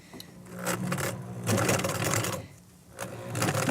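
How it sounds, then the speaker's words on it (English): A sewing machine runs stitching the side seam of a double drawstring bag on the free arm, its motor buzzing steadily in close bursts with a brief slowdown mid-way before speeding up again. "I'm going to just start sewing."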